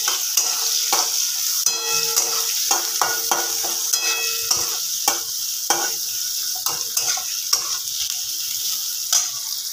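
Chopped onion fries in mustard oil in a pan for chicken curry, a steady bright sizzle broken by repeated clicks and scrapes of a spoon stirring, close and fairly loud with no voices.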